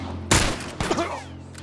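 A sharp, loud gunshot in The Last of Us Remastered bursts out, followed by a second, smaller crack and a brief ringing tail, with a steady low hum underneath.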